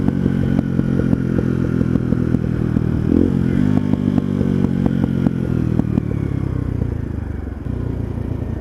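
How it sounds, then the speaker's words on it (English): A motorcycle engine and exhaust rumble steadily up close, with a series of sharp popping crackles scattered through the revving before the sound eases off toward the end. "The sound of the engine, the exhaust"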